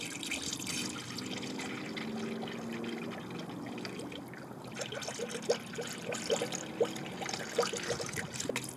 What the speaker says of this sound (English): You're going to want to fill the radiator all the way to the top here.